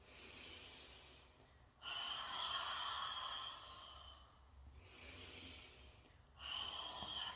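Forceful breathy exhalations from a lion's breath exercise, two long open-mouthed rushes of air a few seconds apart, close and fairly loud, with quieter breathing between them.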